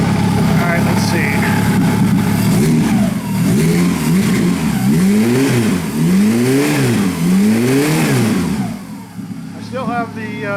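A WAR Corsair replica aircraft engine, run without its propeller and with the accelerator pump disabled, revs up loud and close in repeated rising-and-falling surges, stumbling on the first blip before settling toward a rough idle.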